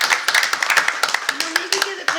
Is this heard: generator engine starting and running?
no